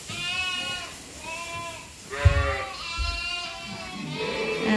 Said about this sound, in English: We just brought a group of 10 ewes and their lambs over a few minutes ago into this pen.